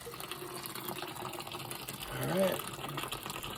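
Water drains from a Weil McLain gas steam boiler, a steady low gush and trickle that swells briefly near the end, while someone speaks a few words.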